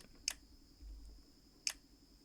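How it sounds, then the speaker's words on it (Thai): Two short, crisp shutter clicks from a Redmi Note 13 or POCO M6 Pro phone camera, spaced well over a second apart, close and clear over a quiet room hum. "ในการกดชัตเตอร์นะครับ ผมให้ดู"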